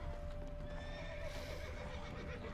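A horse in The Witcher 3 gives a quick, steady whinny alongside a few clip-clop hoofbeats, fairly quiet and close, with game ambience behind it and no talking.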